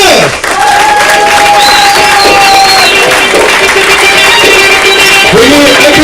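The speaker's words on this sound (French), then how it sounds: "Veuillez applaudir dans les mains" Loud applause and cheering from a comedy club audience fill the room continuously, with whoops and shouted voices rising above the steady clapping.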